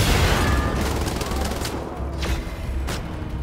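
Heavy gunfire from a big gun in Wolfenstein: The Old Blood, a dense rapid barrage with booming impacts, loud and sustained.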